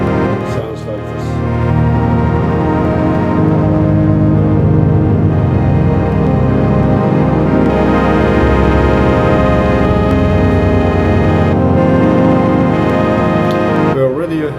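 Modular synth oscillator patched through a tape-loop style record and play module, giving a dense, sustained drone rich in stacked overtones that holds steady and loud throughout, with slight wavering and a brief drop near the end.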